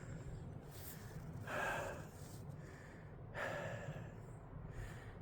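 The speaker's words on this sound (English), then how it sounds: "But all that puffing and panting" Two heavy, drawn-out gasping breaths come after a steep late-autumn hill walk in the Peak District near Strines and Bradfield, close and breathy over faint outdoor background noise, with no talk.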